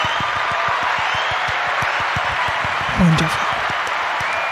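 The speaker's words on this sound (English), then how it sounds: "Golf clap." A live audience gives a soft golf clap, a steady run of light, evenly spaced claps lasting throughout, with a brief burst of voices and a spoken word near the end.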